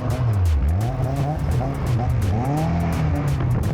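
A budget drift car slides on a wet track with its tires spinning, the engine rising and falling in close, loud revs over hissing tire noise and squeal, a continuous roar from start to finish.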